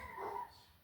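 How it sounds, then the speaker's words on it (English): Dogs whimper faintly in a room nearby, a single soft, high whine lasting under a second. "Oh gosh, these dogs."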